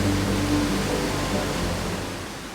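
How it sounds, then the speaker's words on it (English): A raging river and waterfalls in Lynn Canyon, Vancouver, roar as a loud, steady broadband rush heard from the bridge above, fading slightly toward the end. "providing views of this raging river and waterfalls below us"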